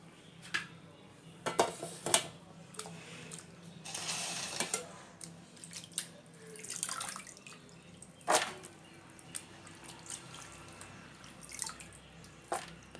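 Water draining from washed, sliced potatoes being strained at home for making chips, heard as irregular splashes, drips and metallic clinks of a pot or strainer over several seconds, with no one talking.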